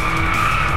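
Car drifting and skidding in the racing video game Driveclub, a loud sustained tire squeal with a steady high screech over a rumbling engine, continuous for the whole moment.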